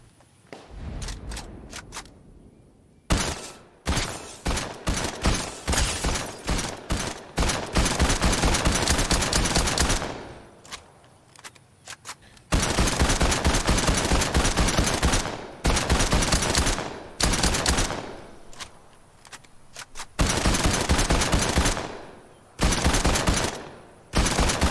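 In Fortnite, loud bursts of rapid gunfire from another player crack out in repeated volleys separated by short pauses, with footsteps between them.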